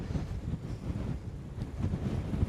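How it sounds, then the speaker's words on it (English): Steady, blustery wind gusting up a valley in the Lake District buffets the microphone in a low roar, swelling and easing in gusts throughout. "I'm getting the full force of the wind here."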